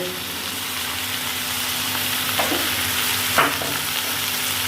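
A spoon stirs green chillies through a chicken and potato samosa filling in a hot pan, under a constant sizzle, with a couple of brief scraping strokes near the end and no voices.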